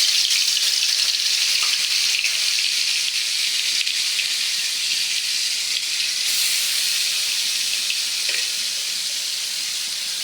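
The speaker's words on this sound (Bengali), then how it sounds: "তাহলে কই মাছটা ভাজা করে নিচ্ছে, যে কড়াইতে তেল দিলাম।" Koi fish frying in hot oil in a wok with a continuous loud hiss and crackle, steady throughout with no voices.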